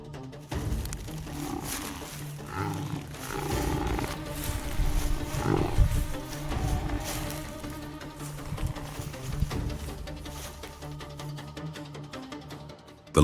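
A trapped lion roars in pain as buffalo close in, its deep, rough roars rising and falling at middle distance over a restless outdoor background.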